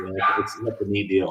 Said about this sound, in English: I'm sorry if you can hear my dogs barking through.